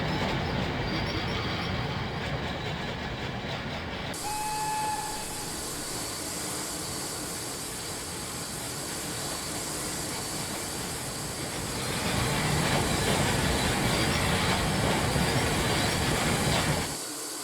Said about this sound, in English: they heard an unfamiliar whistle, and a little green engine puffed into view